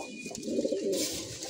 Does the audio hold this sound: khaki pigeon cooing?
yes